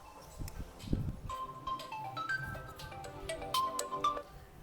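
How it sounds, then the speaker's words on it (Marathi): A mobile phone's melodic ringtone plays nearby, its bright tones stepping through a repeating tune with a few soft knocks and rustles underneath. "फोन कोणाचा आहे"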